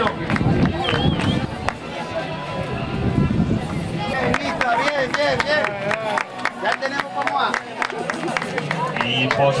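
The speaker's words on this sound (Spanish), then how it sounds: "aplauso para esta clasificación general masculino." Crowd applause at an open-water swim prize ceremony as the men's overall ranking is announced, scattered claps amid chatter and a voice over a loudspeaker throughout.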